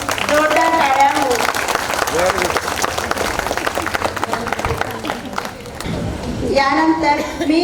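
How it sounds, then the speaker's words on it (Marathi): Audience applause at a cultural program, a dense steady clapping wash running throughout, mixed with voices and loud music-like tones, briefly thinning before swelling again near the end. "जोरदार टाळ्या हो."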